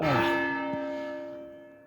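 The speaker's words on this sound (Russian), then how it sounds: "И на колокольный звон из башни." A church bell rings from a tower in Vyborg old town, one strong clang with a long, slowly fading metallic hum, heard from a moderate distance in the open street.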